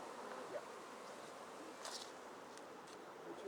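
Honey bees buzz around hive frames at an apiary field day, a soft continuous drone with a few brief, closer passes standing out.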